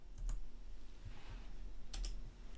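Keystrokes on a computer keyboard, a few quick separate clicks close by, with quiet pauses between them.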